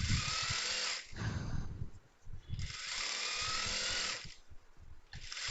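Sewing machine running a second stitch line on a simple skirt, a close, steady motorized whir in long bursts separated by brief pauses, with no voices.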